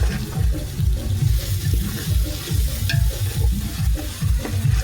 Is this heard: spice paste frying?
yes